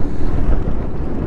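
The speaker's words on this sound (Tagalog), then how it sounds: "Ang lakas din ng hangin dito." Strong wind blows at a mountain viewpoint along the Villa Verde Trail near Malico, a loud, blustery low roar buffeting the microphone without pause.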